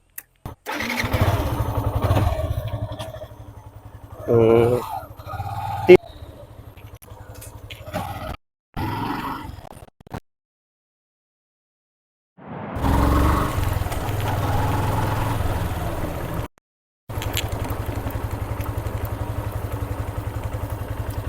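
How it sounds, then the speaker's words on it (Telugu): A 2019 Yamaha FZS single-owner motorcycle starts and settles into a steady, loud running engine note, with brief cut-outs and gaps between bursts of revving, heard close up with no talking. "దీని ఒకసారి మనం స్టార్ట్ చేసి ఒక రౌండ్ వేసి వచ్చి బండి ఎలా ఉంది అనేది కండిషన్ చూద్దాం"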